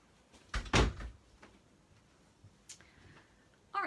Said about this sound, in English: I'm just going to shut the door because my husband is banging.